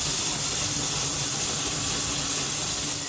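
A restored 1926 Aveling-Porter steam roller hisses steadily with escaping steam, a loud, continuous broadband rush that holds without a break, with no voices over it.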